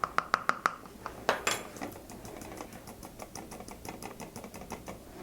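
Baking soda for a lava lamp experiment is tapped and scraped into a container in a quick series of sharp clicks, followed by softer, irregular ticks and taps close up.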